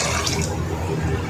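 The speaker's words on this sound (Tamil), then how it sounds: "அதுக்கு நான் வந்து 4 கப் தண்ணி விட்டுக்கிறேன்" Four cups of water are poured onto soaked basmati rice for pulao, giving a steady, close splashing and filling sound that runs throughout.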